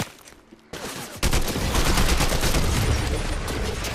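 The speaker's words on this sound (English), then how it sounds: "shoot your rockets at him." Rockets launched in Fortnite: after a faint, quiet opening, a heavy roaring blast erupts and holds as a loud, dense rumble with crackling bursts until the end.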